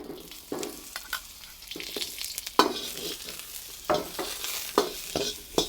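Onion goes into a very hot pan for a Chinese takeout-style chicken and mushroom dish, frying with a soft sizzle broken by repeated sharp scrapes and clinks of stirring.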